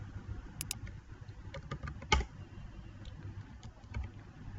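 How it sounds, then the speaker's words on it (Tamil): Keys tapping on a computer keyboard while Tamil text is entered, a quiet irregular run of light clicks with one sharper keystroke midway, close and alone with no talk. "நீங்கள் டைப் பண்ண ஸ்டார்ட் பண்ணுங்கள்."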